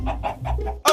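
Chickens in the Minecraft video game cluck in a quick run of four or five short, close, loud clucks, ending in a sharper squawk, with no talking.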